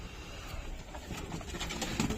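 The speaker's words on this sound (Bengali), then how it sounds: "এই দেখো এটা গিরিবাজ পায়রা আছে" Soft low cooing of Giribaz pigeons nearby, murmuring continuously over a steady background hum.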